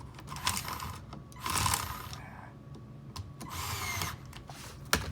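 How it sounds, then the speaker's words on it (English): A power tool drives the three screws on the top cover of a YMS unit during a power cable retrofit, its motor whirring in several short bursts with brief pauses between them. "Tighten those 3 screws on the top of that cover."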